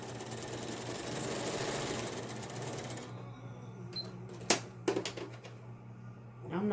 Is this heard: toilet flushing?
no